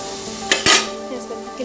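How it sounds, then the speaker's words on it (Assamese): Bay leaves added to hot oil with cinnamon, cloves and browned onion for a simple Assamese pulao, giving a close, steady sizzle with a short bright crackle burst as they hit the pan and faint utensil clinks. "তেজপাতকেইটাও দি দিছোঁ। এতিয়া এইখিনি অকণমান সময় ভাজি ল'ম।"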